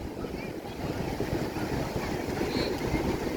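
Sea waves at Manginapudi beach near Machilipatnam, a continuous rushing surf blended with strong wind buffeting the microphone, steady and loud with no clear speech.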